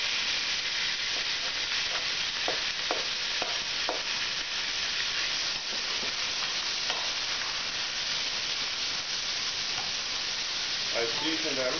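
Chicken gizzards seasoned with salt and cayenne sizzle steadily in fat in a hot pan, a constant close frying hiss with a few light stirring clinks, and no talking over it.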